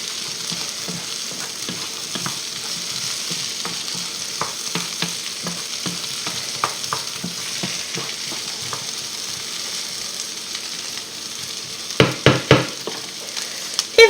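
Potatoes with parsley frying in a pan, a steady sizzle under repeated soft scrapes and clacks of stirring, with a few louder knocks near the end; no talking.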